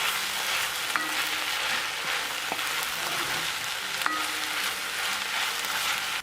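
Onions for French onion soup fry and caramelize in a pan over the lowest heat, giving a steady, close, dense sizzle with occasional faint crackles and stirring clicks throughout, with no talk.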